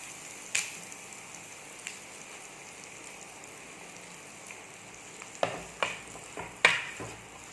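Tomato and curry leaves sizzle softly in a pan for a Kerala-style fish head curry, a faint steady frying hiss broken by several sharp clicks and taps toward the end.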